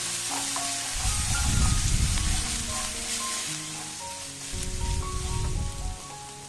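Ginger garlic paste sizzles in hot oil in a pan while being stirred for a spicy chicken ghee roast, a close and steady frying hiss with louder bursts as the spoon moves through it.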